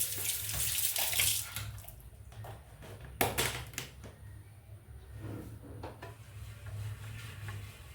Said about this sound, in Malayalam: അപ്പോൾ ഒരു കുറച്ചും കൂടി വെള്ളം ഒഴിക്കുവാണേ.